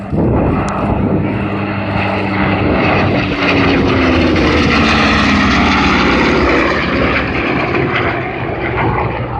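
A loud propeller airplane, an early cabin-class corporate plane, drones steadily throughout at EAA AirVenture 2013, its engine pitch shifting slightly as it passes close by.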